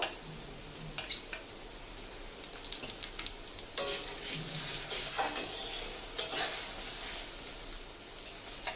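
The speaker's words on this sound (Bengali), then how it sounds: "এর মধ্যে দিয়ে দেবো যে রসুন বাটাটা আমি রেখেছিলাম সেটা দিয়ে দেবো।" Garlic paste is added to frying onions in a pan, producing a low sizzle broken by stirring clinks and scrapes of a utensil against the pan, fairly quiet and close, with no talking.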